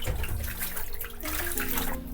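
Running water from a tap splashes steadily over a bleached photographic print in a darkroom wash, loud and continuous with no talk.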